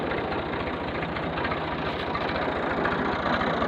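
A tractor engine runs at a steady, low throbbing idle while turning a borewell pump through a shaft and pulley. The rumble is close and constant, with no voices over it.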